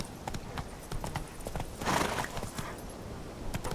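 Roach the horse in The Witcher 3 gallops with a rapid, rhythmic clip-clop of hooves, close and fairly quiet, with a brief snort or breathy whinny partway through.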